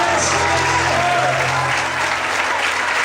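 A church congregation claps and applauds in praise during a worship service, a steady dense wash of hands throughout, with a faint sustained tone underneath.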